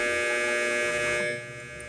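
A household clothes dryer runs with a steady mechanical hum and whir that drops slightly in level partway through.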